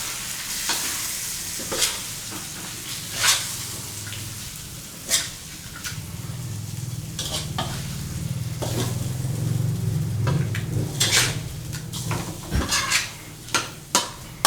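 Spicy catfish with holy basil is stir-fried in a pan, with a steady sizzle under repeated scraping and clinking of a spatula against the metal, the strokes coming at irregular intervals.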